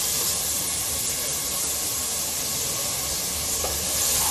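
A loud, continuous hissing sizzle of onions sautéing in a hot pan, steady throughout with no voices.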